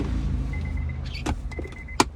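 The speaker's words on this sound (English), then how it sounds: "Once you hear the click, it's so set in." A center pocket being fitted into the dash of a 2003 Honda Accord EX, with a few sharp plastic clicks, the last and loudest snapping into place near the end, over a steady low background hum.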